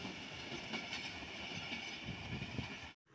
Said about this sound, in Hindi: स्टेशन करीब होने के बावजूद ट्रेन की स्पीड 60 किलोमीटर पर आवर तक थी।